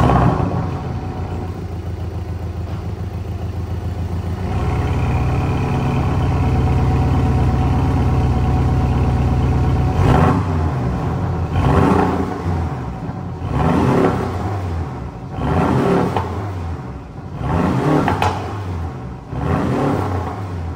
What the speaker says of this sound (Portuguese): Ela já vem com escape esportivo, né? Por isso que o ronco já vem muito bacana, mesmo de série.